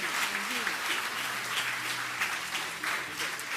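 Audience applause at a Baptist Day church celebration, a steady wash of clapping from a gathered crowd, moderately loud and continuous, with faint voices mixed underneath.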